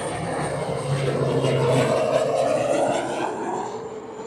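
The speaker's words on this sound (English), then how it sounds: "Tiny little airplane just passed right by us." A tiny propeller airplane passes close by over San Diego. Its engine drone rises to a peak midway, then slowly fades as it moves off, with no talking.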